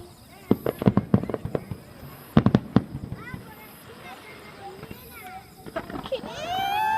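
Fireworks bursting at the 2014 Inashiki fireworks festival in Japan: clusters of sharp cracking explosions in quick volleys, then whistling, crackling trails, with excited voices and exclamations from the crowd throughout.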